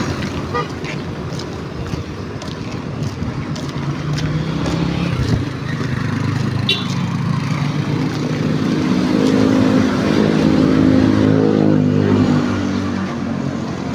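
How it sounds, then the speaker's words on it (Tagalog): Vehicles speed past on a provincial road in Pangasinan, a steady loud rumble of traffic that swells toward the end, with a horn toot and some voices in the background. "May bilis na mga sasakyan dito."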